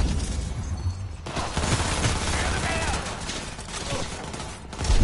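Rapid gunfire bursts from the video game Cyberpunk 2077 on PS5, dense and continuous, with booming in-game action and a player talking over it.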